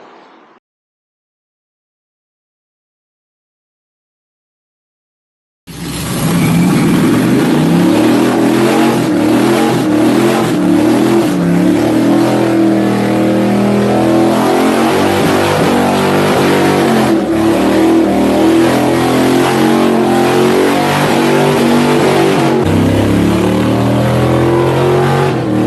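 A car does a burnout inside a shop, the engine revving hard in a loud continuous roar with fluctuating pitch after several seconds of silence.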